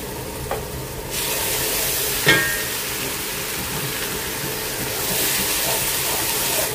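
Garlic and ginger paste sizzles in a hot pan of oil for tehari, a steady broad hiss that jumps louder after the paste goes in and swells again near the end, with no voices.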